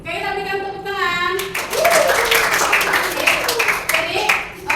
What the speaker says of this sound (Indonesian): Oke, kita berikan tepuk tangan.